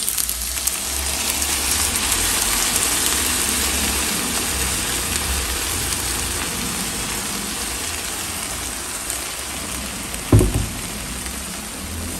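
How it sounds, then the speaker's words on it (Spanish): A blender runs steadily, whirring a sour cream mixture in a continuous, fairly loud drone, with a short clunk near the end and no voices. "esto lo vamos a llevar a licuar"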